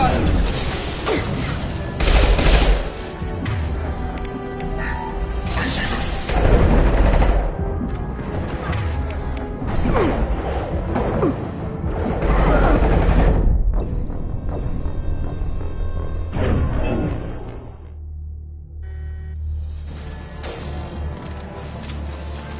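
Heavy gunfire in a sci-fi shooter game: dense, continuous bursts of shots and booms over a steady loud backdrop, with sharp volleys throughout and a brief quieter stretch near the end.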